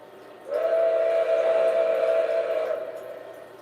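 A steam whistle, a model 765 locomotive on a remote-controlled MTH layout, sounds as one steady, sustained tone for about two seconds and then fades out, loud and clear over a quiet background.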